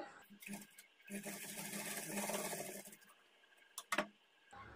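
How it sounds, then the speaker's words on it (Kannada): A sewing machine runs close and steady for a couple of seconds, stitching blouse piping pieces at a quarter-inch margin, with a few brief taps and handling noises before and after. "ಈ ಥರ ಆಪೋಸಿಟಲ್ಲಿ ಇಟ್ಕೊಂಡು ಒಂದು 1/4 ಇಂಚ್ ಮಾರ್ಜಿನ್ಗೆ ಸ್ಟಿಚ್ ಮಾಡ್ಕೊಳ್ಬೇಕು"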